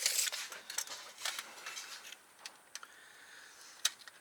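Small scissors snip through pieces of LED strip, a series of irregular light clicks and crisp cuts, close and fairly faint, with quiet handling noise between them.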